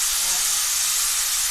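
A pressure cooker of urad dal hisses steadily with a continuous, even steam hiss throughout, close and fairly loud, with no pauses or whistle bursts.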